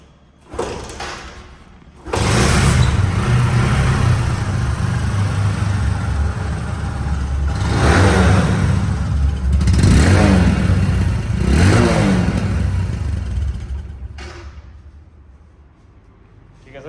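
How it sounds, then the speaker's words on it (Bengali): After a short kick and sputter, a Bajaj Discover 125cc motorcycle engine catches and runs steadily, revving up and down several times before winding down, loud and close. "পা দিয়ে স্টার্ট দিচ্ছে দেখেন প্রথম কিকি কিন্তু স্টার্ট হয়ে গেছে"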